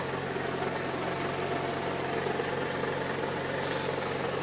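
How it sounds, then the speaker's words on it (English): A 1987 Pontiac Firebird's 350 V8 with a worn carburetor idles in a steady, low rumbling drone with even engine pulses, close and continuous, no voices. "it's pretty exciting to have it running today."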